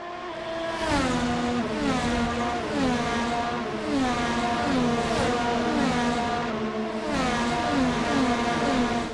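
Formula 1 race car engine in an F1 video game at the Australian Grand Prix, a loud continuous high-pitched whine that rises and drops repeatedly through rapid gear shifts, steady and close throughout.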